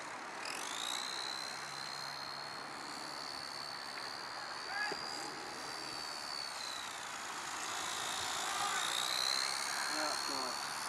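Small radio-controlled Cessna model airplane flying at part throttle overhead, a steady distant high-pitched propeller whine that rises and falls as it passes, with faint outdoor ambience throughout.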